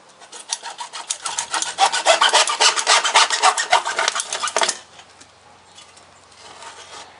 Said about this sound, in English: a good hacksaw cuts right through it